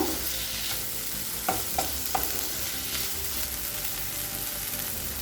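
Tamarind sautéing in a pan for chutney gives a steady close sizzle, with a few soft stirring scrapes near the start and no talking.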